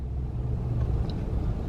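A car passes on a road, a steady low rumble heard from inside a parked vehicle during a fast-food meal, moderately loud with no clear rise or fall.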